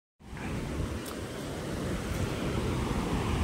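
Kaigal waterfall near the Tamil Nadu border, a steady broad rush of flowing water that starts abruptly and holds even and fairly close, without any voices.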